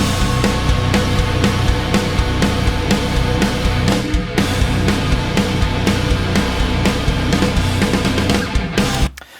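A dense wall of heavily distorted guitar run through industrial fuzz, playing together with a full band in a rock production mix, loud and continuous before cutting off abruptly at the end.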